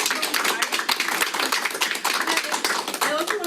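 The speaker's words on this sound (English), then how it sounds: "let's give them a round of applause" An audience applauding a panel of women executives at a leadership event: a steady patter of many hands clapping in a room, dense and even, with voices faintly audible beneath.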